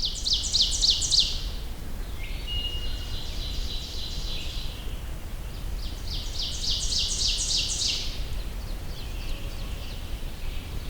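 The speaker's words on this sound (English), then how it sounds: "Oh, black-throated green warbler." Black-throated green warbler singing on a wooded trail, two buzzy high song phrases a few seconds apart, moderately distant over a steady background hiss, with no talking.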